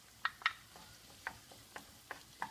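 Diced red pepper cooking in a pan with onion, garlic and olive oil, a faint low sizzle under scattered sharp clicks and scrapes of stirring.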